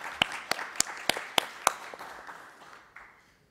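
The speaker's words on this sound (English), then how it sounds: "Applause to him." Sparse hand claps at a scientific forum session, about six distinct claps in a slow, even rhythm, then a fading tail of room noise; fairly faint and without voices.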